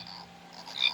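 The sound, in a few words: Northern leopard frog call from Wild Republic toy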